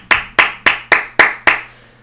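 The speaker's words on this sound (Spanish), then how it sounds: "Yo le voy a dar un gran aplauso al doctor." One person claps alone, six sharp, close hand claps in an even rhythm, each ringing briefly before the next, then silence.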